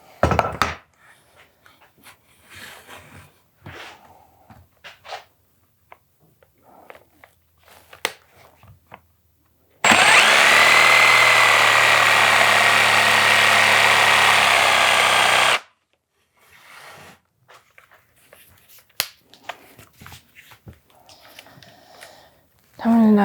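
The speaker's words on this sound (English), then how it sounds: "So you see my jigsaw, this is the plate, it's now at a bevel, and I'm going to cut from here up until I hit that line right there." A jigsaw cuts a bevelled wood plate for a porch bench, a loud, steady buzzing run of about six seconds, with quieter handling noises and speech before and after.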